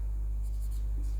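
Chalk or marker scratches briefly on a classroom board during a biology lesson, a short close scrawl over a low steady hum.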